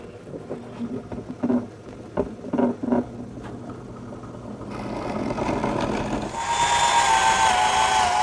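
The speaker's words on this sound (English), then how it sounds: "These holes that I drill in the corners of the tray frame for the carriage bolts" A few knocks and taps give way to a power drill whirring up and boring steadily into a wooden wheelbarrow tray frame for carriage bolts, its motor pitch rising as it runs close by.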